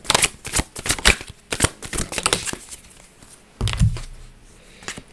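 Tarot message cards being shuffled by hand, a dense run of quick papery riffles and slaps close up, pausing briefly before another burst of shuffling.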